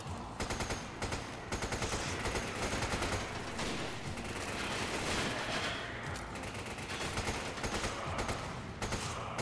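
Rapid automatic gunfire in Resident Evil 5 during cooperative play, dense bursts of shots rattling almost continuously at close range, loud and without pause.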